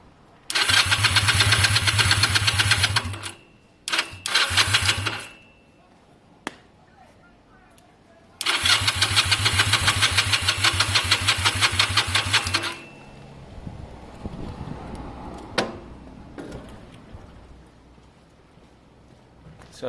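A Honda CB250 motorcycle with a weak battery and no spark cranks on its starter in three bursts, a long churning spell, a short one, then another long one, each sagging and stopping between quiet pauses.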